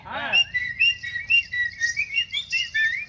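A storyteller's voice whistles to imitate sparrows chirping, giving a rapid series of high, bright, rising and falling chirps close to the microphone after a brief vocal sound.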